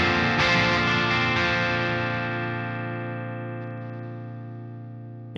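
A sustained distorted electric guitar chord played through a Bogren Marshall JVM410H amp plugin in crunch mode, ringing out after a single strum and slowly decaying over several seconds.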